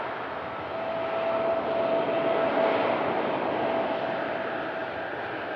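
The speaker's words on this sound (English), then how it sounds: "As the TUI spools up." A TUI airliner's engines spool up at Manchester Airport in thick fog, a steady broad roar heard from a distance with a faint whine running through it.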